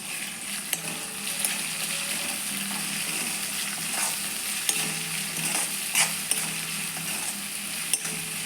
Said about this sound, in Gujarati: હવે આપણે એમાં ટામેટો ઉમેરીશું એમાં થોડું મીઠું નાખશું જેથી ટામેટાં જલ્દી સતળાઈ જાય